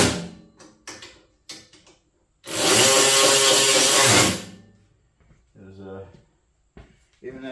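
A ratcheting wrench tightens bolts on a new house generator, giving a rapid ratcheting clatter of about two seconds between short clicks and knocks, with a voice speaking before and after.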